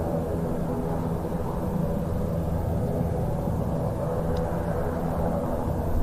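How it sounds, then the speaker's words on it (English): RAF Phenom T1, the military version of the Phenom 300 very light business jet, departing the Royal International Air Tattoo, a steady distant jet roar and rumble that stays even throughout. "it is the RAF's designation for the Phenom 300 very light business jet."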